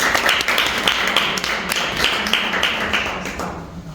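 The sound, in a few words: audience applause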